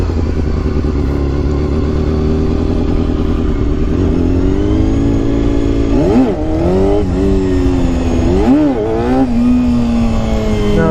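A Honda CBR250RR MC22 four-cylinder 250 motorcycle holds a high steady rev near the microphone, then throttle blips rise and fall twice as the rider attempts wheelies; no voices.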